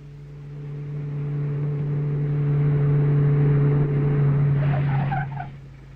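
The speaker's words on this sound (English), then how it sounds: "The film starts with a van driving." A van drives along in the opening of the film Riki-Oh, its engine a steady low hum that swells and holds for several seconds before easing off, with a brief higher rattle near the end.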